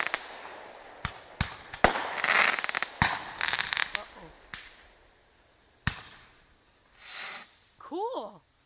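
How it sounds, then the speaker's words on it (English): Shogun Fireworks big American candle assortment firing outdoors: a run of sharp, loud bangs and crackling bursts at irregular intervals, some rolling rumble between shots, and a short voice near the end. "Shogun Fireworks with the big American candle assortment, keeping the thunder rolling."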